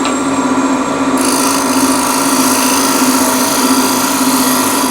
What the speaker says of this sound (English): hone it with a diamond hone